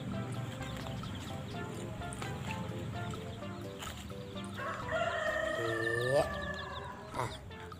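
Chickens in a coop, with a rooster crowing loudly near the end over a steady busy background of clucking fowl and other noise.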